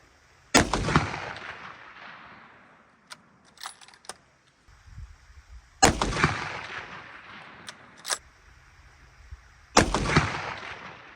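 Three loud, sharp rifle shots from a CVA Cascade Long Range Hunter in 7mm Rem Mag, spaced several seconds apart, each with a long fading echo, separated by quiet metallic clicks of bolt cycling and no talking.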